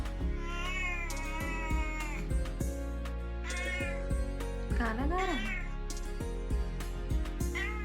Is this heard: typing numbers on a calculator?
no